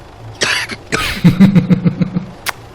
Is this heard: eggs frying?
no